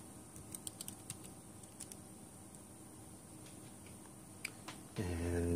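Scattered light key clicks come from a computer keyboard as a command is typed quietly, ending in a louder steady tone.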